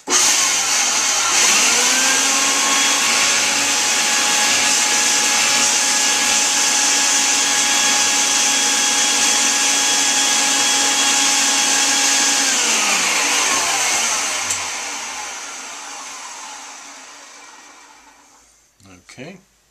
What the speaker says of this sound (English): Always useful to have a vacuum nearby.